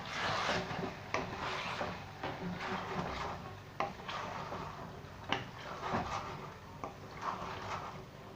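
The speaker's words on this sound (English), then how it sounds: "Give this another wee stir." A spoon stirring and scraping chicken jalfrezi around a pan, close repeated rubbing and scraping strokes with occasional sharper knocks against the pan over a low sizzle.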